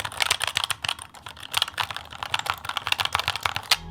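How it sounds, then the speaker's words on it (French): Continuous fast typing on an ASUS TUF Gaming K7 opto-mechanical gaming keyboard, dense overlapping key clicks at a steady rapid rhythm, close and moderately loud, with no talking. "Et maintenant je vais vous faire entendre le bruit des touches."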